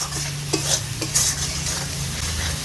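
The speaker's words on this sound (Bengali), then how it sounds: "মশলাটাকে ভালো করে মিশিয়ে নেব।" Spice masala of turmeric and chili powders with ginger, garlic and tomato for rajma is stirred and fried in a pan, giving a steady close sizzle with scraping spoon strokes and no talking.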